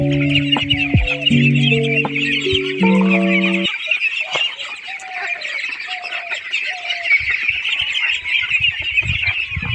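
Khaki Campbell ducklings, about a month old, peep in a continuous high chorus, fairly loud and close, with brief deeper tonal sounds early on.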